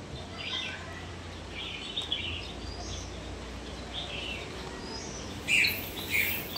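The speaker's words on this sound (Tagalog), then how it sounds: "Dun yung mga ibon." Small birds chirp in short, scattered bursts over a steady outdoor background hum, with a louder pair of calls near the end.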